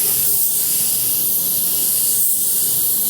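A paint spray gun sprays a steady, continuous hiss at close range, the broad airy rush holding evenly from start to finish with only slight swells and no voices.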